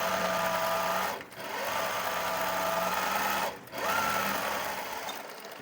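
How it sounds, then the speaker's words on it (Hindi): A sewing machine runs a line of stitching along the edge of a salwar in a steady, loud whir that stops briefly twice before carrying on, with no speech over it. "अब हम यहाँ पर किनारी पर सिलाई लगा लेंगे"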